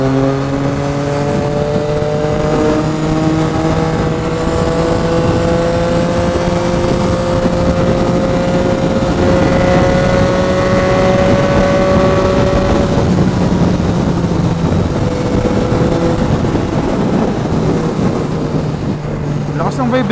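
Steady engine drone and wind rush from a Yamaha XSR 900 motorcycle being ridden, a loud continuous hum with shifting engine tones throughout and a voice talking over it at times.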